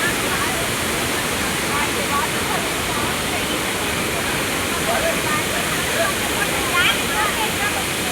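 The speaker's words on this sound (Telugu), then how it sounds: "వాటర్ ఫాల్స్ చూస్తురా మీరు?" Hogenakkal falls pour down in a dense, unbroken roar of rushing water, loud and steady for the whole stretch, with faint voices now and then beneath it.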